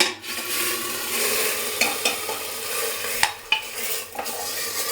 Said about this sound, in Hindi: तड़का हो गया तैयार, तो करते हैं बंद और अब इसमें मारते हैं तड़का।